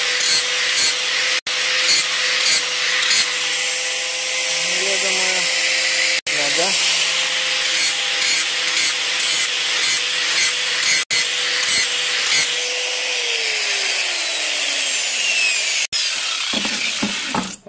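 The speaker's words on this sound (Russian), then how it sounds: "Вот мы берем болгарку" Loud, continuous whine of an angle grinder with an ordinary abrasive disc grinding a steel file, with a steady high-pitched tone and harsh abrasive noise, briefly interrupted a few times.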